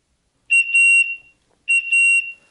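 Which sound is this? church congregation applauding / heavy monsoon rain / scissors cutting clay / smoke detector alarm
smoke detector alarm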